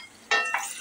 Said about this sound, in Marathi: आता मी हे याच्यात बटाटे टाकून घेते.